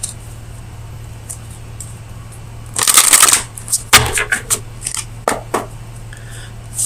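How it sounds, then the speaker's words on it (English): Oracle cards from the Oracle of Visions deck are shuffled for a tarot reading, a short riffling burst followed by several soft card snaps and taps against a quiet steady hum. "So let me get you an oracle card from the Oracle of Visions."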